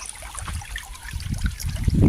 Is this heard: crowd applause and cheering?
no